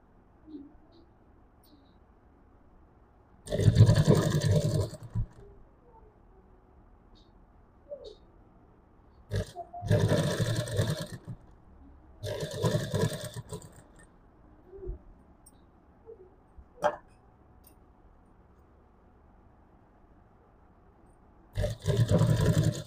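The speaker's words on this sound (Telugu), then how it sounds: "మనకి రౌండ్ ఎలా అయితే ఉందో అలా కరెక్ట్గా నెక్ తిప్పుకుంటూ కుట్టు వేసుకోవాలి." A sewing machine stitches the round neckline of a child's blouse made from an old saree, running in several loud, close bursts of whirring of a second or two each, separated by quiet pauses.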